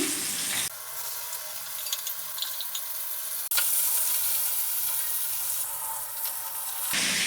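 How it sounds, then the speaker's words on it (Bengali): Tuna fish pieces fry in oil in a pan with a continuous, close sizzling hiss. A sharp click comes midway, and the level shifts slightly as pieces are moved. "এক এক করে আমি বাকি মাছগুলো ভেজে নিচ্ছি"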